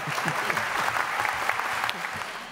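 Dense, sustained applause from a large congress audience, loud and even throughout with many overlapping claps and faint voices in the crowd.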